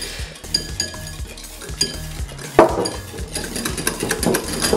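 Egg yolk, mustard and oil whisked quickly in a bowl into mayonnaise, a steady run of close metallic clinks and scraping stir strokes, with a firmer beat about halfway through.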